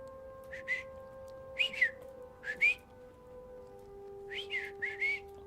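Someone whistles a few short, close chirping notes in small clusters with brief gaps, over a low steady background hum.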